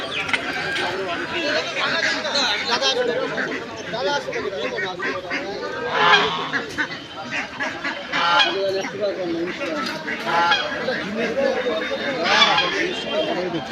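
Geese honk amid other fowl at a duck and chicken market, with busy human chatter and talk over and around the repeated honks and clucks.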